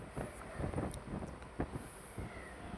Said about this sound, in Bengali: একটা ট্রেন বেরিয়ে গেল সাইড থেকে